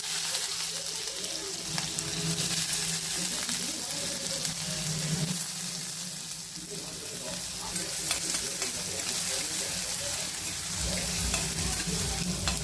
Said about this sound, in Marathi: आपण टाकतो थोडंसं तेल, त्याच्यामध्ये थोडंसं जिरं आणि कांदा.